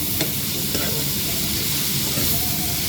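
Tomatoes and peppers tipped into a pan already sizzling with paneer, giving a steady, close frying hiss with a few soft stirring knocks and no talk.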